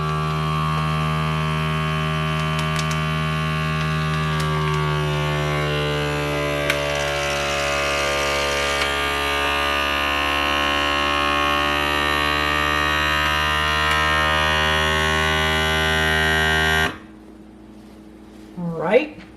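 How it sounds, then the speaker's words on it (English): An Avalon Bay vacuum sealer pulls air from a bag of black-eyed peas with a steady, loud mechanical hum and whine, then stops abruptly near the end as it seals. "I hit vacuum and seal."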